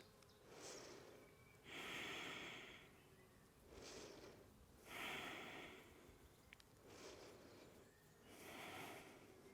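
Slow, deep breathing held through a yoga pose, with three long airy inhale-exhale cycles close to the mic, each breath swelling and fading in an even rhythm, with no talking.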